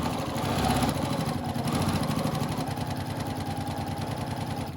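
Sewing machine stitching elastic onto a fabric face mask, a continuous mechanical whir with fast rhythmic needle ticking, fairly loud and close, running steadily the whole time without speech.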